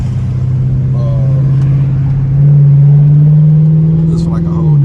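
Straight-piped Dodge Charger R/T pulling hard on a highway, a loud, steady low exhaust drone that climbs in pitch and swells louder midway as it accelerates, close and continuous throughout.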